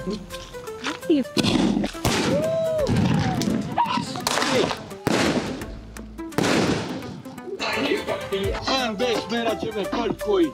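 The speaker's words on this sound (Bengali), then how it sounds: "তার বার্থডের জন্য আতশবাজি করতেছি" Birthday fireworks set off at a resort, giving a run of sharp bangs and crackling bursts over about ten seconds, with people talking and reacting throughout.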